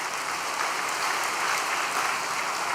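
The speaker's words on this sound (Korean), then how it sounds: "격려의 박수 한번 보내주시기 바랍니다" A steady wash of applause from an audience at a night prayer gathering, dense and even for a few seconds with no voices over it.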